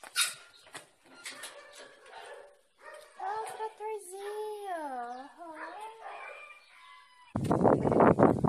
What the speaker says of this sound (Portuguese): Ai, esse cachorro bravo.